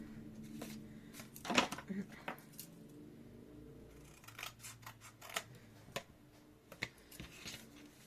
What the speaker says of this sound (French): Je sais pas comment je fais pour pas couper droit avec le massicot.